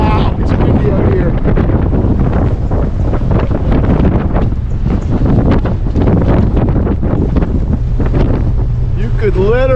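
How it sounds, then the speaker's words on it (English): Strong, loud wind buffets the microphone on the open deck of a BC ferry, the Queen of Alberni, crossing from Tsawwassen to Duke Point, with steady roaring gusts throughout and a voice speaking over it. "Wow, it's windy out here."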